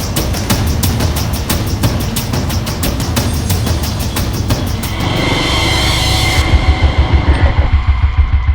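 A car rolls forward with a loud, steady engine drone, close by and continuous, and the pitch shifts as it moves off before settling into a lower rumble.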